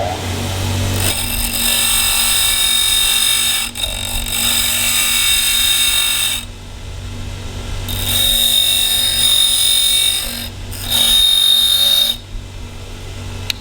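A tungsten welding electrode is ground on a spinning grinder, which gives a loud, steady whir with a high whine, broken by several short pauses as the electrode is lifted off and pressed back on.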